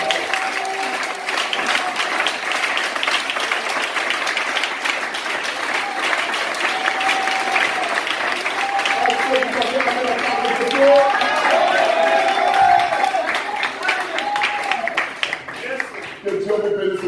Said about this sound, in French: Acclamons puissamment le Seigneur